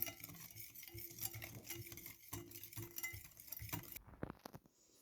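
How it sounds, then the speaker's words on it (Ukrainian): A spoon stirs thick chocolate gingerbread batter in a bowl, giving a steady close scraping and patter that runs for several seconds before stopping. "Розмішую добре. Це в мене будуть шоколадні пряники."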